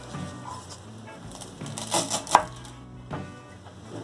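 A knife chops coriander roots and stems on a board in a few uneven strikes, with one sharp, loud blow in the middle, set over faint background noise.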